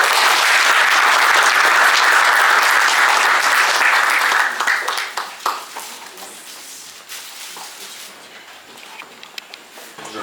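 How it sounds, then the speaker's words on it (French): Loud audience applause at a seminar closing and awards ceremony, a dense roar of clapping for about four seconds that then thins into scattered, fading claps. "bravo à eux, on peut encore les applaudir"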